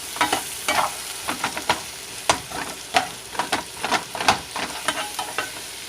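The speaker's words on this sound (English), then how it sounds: "And then you just want to stir it around." Meatballs and gravy sizzling in a frying pan as a utensil stirs them, with repeated sharp scraping strokes over a steady close fry hiss.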